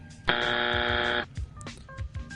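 A sustained, loud electronic buzzer tone holds for about a second, a sharp game-show style blast standing alone before brief scraps of sound follow.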